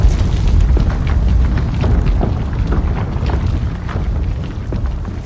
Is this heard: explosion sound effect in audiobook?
yes